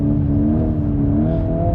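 A VW Golf R 8.5 engine holds steady revs in a drift on snow, a loud close droning note with a slightly wavering pitch and no talk.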